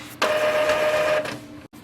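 An Epson ET-2720 inkjet printer whirs steadily through a printhead cleaning cycle, a close mechanical hum with a faint whine that runs for about a second before stopping abruptly, with no talking.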